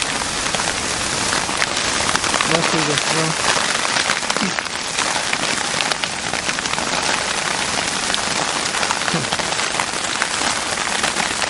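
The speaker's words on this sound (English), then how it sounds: "starting to get rainy now" Steady rain and gusting wind hammer down on a riverside campsite along the Withlacoochee River, a dense continuous wash of drops close by, with a voice briefly speaking over it.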